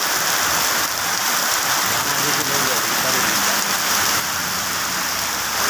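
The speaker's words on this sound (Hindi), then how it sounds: "पानी पड़ रहा है जोरदार।" Heavy rain pours down in a village street in a constant loud hiss of drops hitting surfaces, broadband and unbroken from start to finish.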